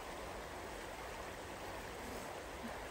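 A clear river flowing through snowy forest in Banff National Park, a steady broadband rush of water that stays even and unbroken throughout, close and moderately loud with no voices.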